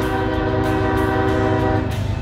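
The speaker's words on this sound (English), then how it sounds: "A CSX train northbound" A CSX freight train running northbound on Norfolk Southern tracks, rerouted after a derailment, passes close with a loud, steady rumble of rolling cars and a sustained multi-tone horn blast throughout.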